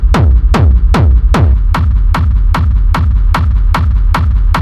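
Steady, rapid industrial techno kick drum hits roll on with a deep rumbling low-end layer sustained between them, a dense throbbing pulse with no voices.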